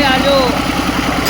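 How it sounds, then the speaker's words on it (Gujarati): A 40-year-old export tractor's engine runs loud and close, a steady, evenly pulsing diesel chug with rapid regular beats through a short stretch. "આજે એક્સપોર્ટ ટ્રેક્ટર છે, 40 વર્ષ જૂનો ટ્રેક્ટર"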